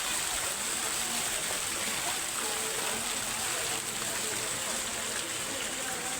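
Water rushes and splashes steadily at a musical fountain water show in Almatti, a continuous loud wash of spray with crowd voices faintly mixed in.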